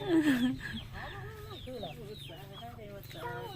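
Chickens cluck and chatter close by in a busy, overlapping stream of calls, with a louder squawk at the start.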